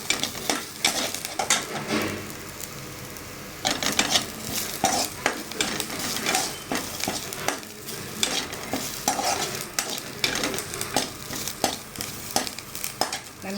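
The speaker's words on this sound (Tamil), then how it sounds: "நல்லா ப்ரௌனாக வதக்கிடணும்." Cumin, onion and curry leaves sautéing in a kadai: a loud continuous sizzle with repeated rhythmic scraping strokes of a spatula against the metal pan.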